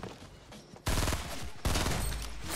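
Rapid bursts of automatic gunfire in Fortnite: Battle Royale, two loud sustained volleys after a quieter lead-in, dense and close with no talking.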